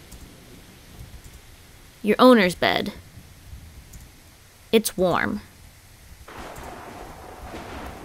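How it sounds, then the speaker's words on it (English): Steady rain patters outside with low thunder in the cat adventure game So Lonely, heard indoors behind a few short game chimes and a person talking. "it sounds like it's raining outside"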